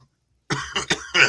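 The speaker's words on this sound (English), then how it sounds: "I'll just cough in everybody's ear for a second" A short burst of coughing close up, three or four rough hacks in quick succession after a moment of silence.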